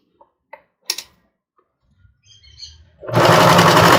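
A sewing machine stitches a bra cup to its base, running in a loud, steady burst near the end after a few soft clicks and handling taps, close up with no talk.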